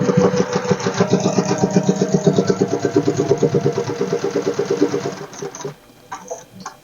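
A sewing machine stitching along fabric runs in a fast, steady mechanical chatter of rapid needle strokes, loud and close for about five seconds before stopping, followed by a few quieter clicks.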